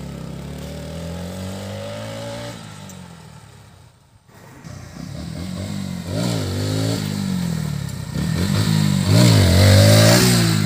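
Motorcycle engine revving hard during a wheelie stunt, close and loud, with rising and falling throttle sweeps, a brief drop to near silence, then repeated aggressive revs climbing higher.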